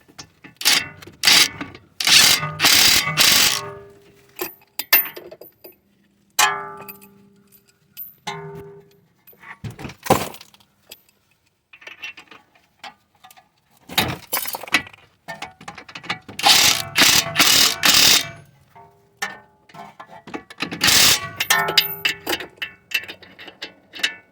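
Ratchet tightening the strut assembly on a 7th gen Nissan Maxima: bursts of quick mechanical clicking separated by quiet pauses and occasional clanks, close by.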